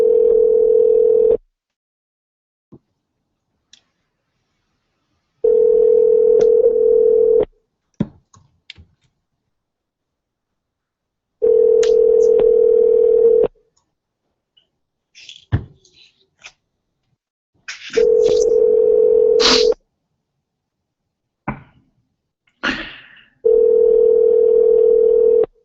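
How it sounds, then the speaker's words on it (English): Steady telephone dial tone from a Skype call, sounding in four loud sustained bursts of one to two seconds each, separated by gaps with scattered clicks and faint keyboard tapping, no voices. "We're waiting for Skype to dial."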